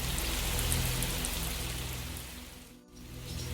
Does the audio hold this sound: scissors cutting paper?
no